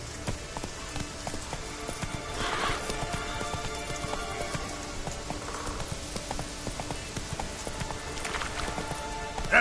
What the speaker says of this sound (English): Come on, Roach.